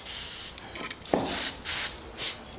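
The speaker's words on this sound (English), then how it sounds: "Now you take the can of Freeze-All penetrating oil, and you spray on where the rings are that holds it in, the clips." Freeze-All penetrating oil sprays from an aerosol can onto the clips of a rusted universal joint in several bursts, close-up hissing with short pauses and a faint knock between sprays.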